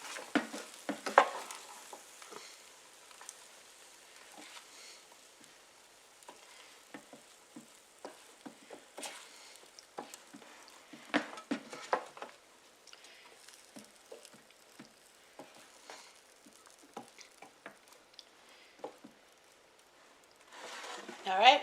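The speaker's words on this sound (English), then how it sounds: "So what I'm going to do is stir it around." Sausage and vegetables stirred around in an air fryer basket, giving quiet scraping and rustling with a faint sizzle, close by and low in level, with light talk over parts of it.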